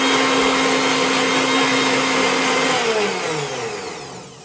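Mixer grinder (mixie) motor whirring loudly and steadily at close range, its pitch sliding down as the blades wind down toward the end, no voices.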